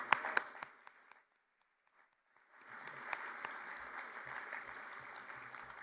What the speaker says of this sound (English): let's give one more round of applause to our JROTC students who are in the audience